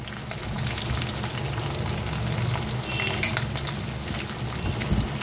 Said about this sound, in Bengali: এই ভর্তার মধ্যে পেঁয়াজ রসুন কাঁচা লঙ্কাগুলোকে একটু ভেজে দিলে খুব ভালো লাগে